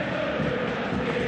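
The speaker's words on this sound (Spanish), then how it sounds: "La gente le aplaude el esfuerzo a todos" A football stadium crowd at an Argentine league match between San Lorenzo and Atlético Rafaela applauds the players' effort, giving a steady, dense wash of clapping and cheering that holds at an even level throughout.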